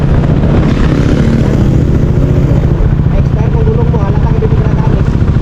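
A motorcycle engine runs loud and close with a steady low rumble and some wind noise, while a person talks over it.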